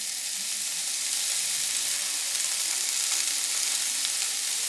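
Shrimp and butter sizzle steadily on a hot Blackstone griddle, a loud, close, continuous hiss of frying with no talk.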